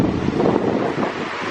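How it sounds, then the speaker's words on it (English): Strong wind gusting across a balcony in Wellington, a close, continuous roaring buffet on the microphone with no other sounds standing out. "It's pretty windy"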